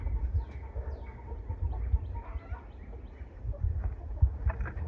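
Chickens clucking and calling inside a coop, a steady mix of soft clucks and occasional sharper calls over low rumbling background noise, fairly close and continuous.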